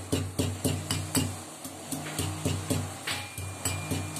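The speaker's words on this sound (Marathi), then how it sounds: "चार पाच लसूण घेतल्या तर जरा चेचते खलबत त्यामध्ये" Four or five garlic cloves are pounded in a mortar and pestle, about a dozen evenly spaced, close, dull thuds with a brief pause midway, and no talk.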